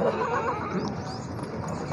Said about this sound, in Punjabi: ਲਓ ਜੀ ਕੋਰਾ ਘੋੜਾ ਜੇ